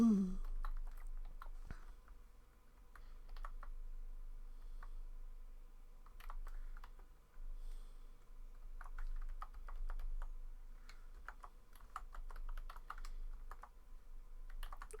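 Typing on a computer keyboard, with quiet, irregular bursts of key clicks spread through a long stretch over a low steady hum, close to the mic.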